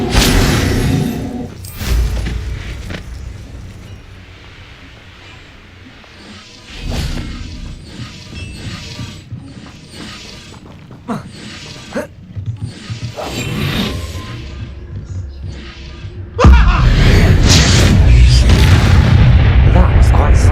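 An Incendio fire spell bursts in the Hogwarts Legacy video game, with booming blasts and a loud roaring surge near the end, mixed with game effects and voices speaking between the blasts.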